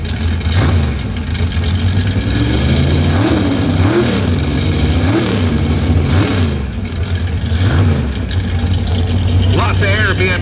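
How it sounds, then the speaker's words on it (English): A big block Chevrolet nitrous car with a large cubic-inch motor revs loudly and repeatedly, its pitch rising and falling, with voices talking over the engine noise. "Jason Copeland with the big block Chevrolet nitrous puffing machine"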